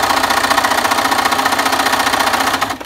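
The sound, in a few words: sewing machine back stitching a seam on a mask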